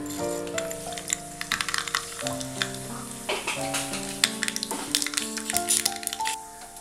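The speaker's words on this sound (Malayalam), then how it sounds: "വെളിച്ചെണ്ണ ചൂടായി കഴിയുമ്പോൾ 1/4 ടീസ്പൂൺ കടുക്," Mustard seeds splutter and crackle in hot coconut oil in a pan, a steady sizzle broken by sharp popping bursts over soft background music.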